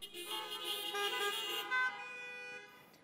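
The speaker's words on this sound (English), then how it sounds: "Give me a honk." Car horns honk in a short, bright blaring blast that lasts a couple of seconds before fading, heard alone without talk.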